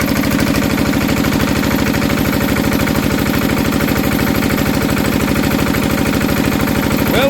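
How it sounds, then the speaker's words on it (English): An old Enfield diesel engine idles steadily after a cold start, a loud, close, even low thumping knock that repeats rapidly and without pause from start to finish, with no talk over it. "We'll leave that running for a couple of minutes. I'm sure you guys will enjoy the diesel."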